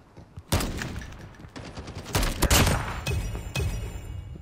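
Sniper rifle fire in the hardcore mode of the mobile shooter Call of Duty Mobile, several sharp loud reports spaced about a second apart amid a dense background of game noise.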